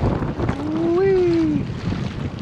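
Wind roars across the microphone out on an open boat on the water, a steady rushing, buffeting noise throughout, with a brief rising and falling tonal whistle in the middle.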